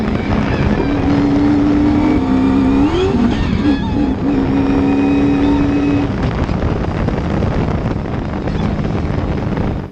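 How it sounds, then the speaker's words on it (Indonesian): A Mitsubishi Triton monster truck engine drones loud and steady at full throttle, with wind buffeting the microphone and a brief whine rising in pitch over the roar. "kami gas sedalam-dalamnya."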